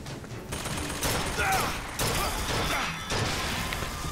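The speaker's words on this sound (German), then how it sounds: "Drei gezielte Schüsse und das Ding ist kaputt." Gunshots in the video game BioShock Infinite, three aimed shots destroying a robot, loud bursts of blast and mechanical clatter close by.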